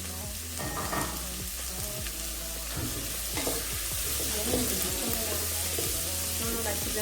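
Chopped onions go into a pan of carrots frying in oil, producing a loud continuous sizzle broken by repeated scraping stirs close by.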